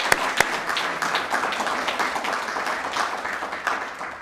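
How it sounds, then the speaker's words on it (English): An audience at a Catholic education award event claps in a lively, continuous patter with a couple of sharp louder claps near the start, close and moderately loud, with no speech over it. "I think we should give them a clap."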